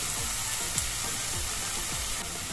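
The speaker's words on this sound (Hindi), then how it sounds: "हमारा प्याज अभी फ्राई हो रहा है।" Onions frying in a pan, a dense, close hiss of sizzling oil with a regular pulsing rhythm underneath, no voices.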